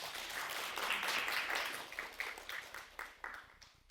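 Applause at a Korean startup results-sharing event greets a young founder's presentation: dense clapping at moderate volume that thins into scattered individual claps toward the end.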